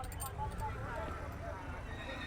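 A horse whinnies close by at the Pushkar fair while people talk over it, with a few hoof clops and faint background chatter.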